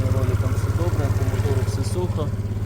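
A Suzuki Address V50 scooter engine idles with a steady, even putter while a person talks over it close by.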